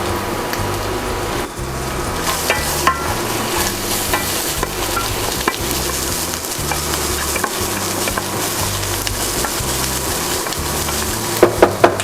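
Liempo pork belly sizzles steadily in a hot pan, with stirring scrapes throughout and a few sharper clinks near the end, no talking.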